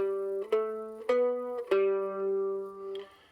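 Four plucked mandolin notes in a short stepwise pattern, ending on open G, each ringing clearly and sustaining before the next, played alone and close.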